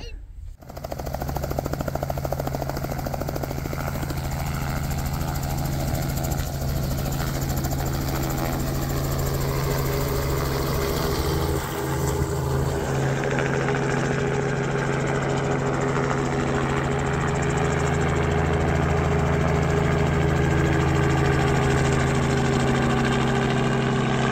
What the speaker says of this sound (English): I'll get a shot of the helicopter leaving